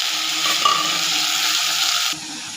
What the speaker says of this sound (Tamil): அது பொரிஞ்சதும் பெருஞ்சீரகம் கொஞ்சம் போட்டுட்டு அது இதானதும் பொரிஞ்ச உடனே வெங்காயம் போட்டு வதக்கலாம்